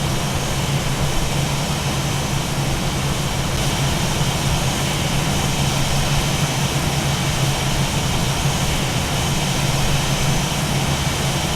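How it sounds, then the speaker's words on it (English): Reverse thrust on an Aerosoft A320 airliner in Flight Simulator X, a loud, steady jet engine roar that holds constant throughout with no talk. "This is reverse thrust being set once again."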